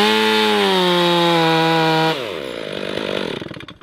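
A freshly sharpened chainsaw bores into red pine, its engine holding a steady high whine before bogging down as the chain bites, then working through the cut loudly and close up, with no talk.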